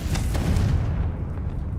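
A Confringo spell explosion in a wizarding video game: one deep, loud boom with a rumbling burst that quickly fades into a low tail, heard alone.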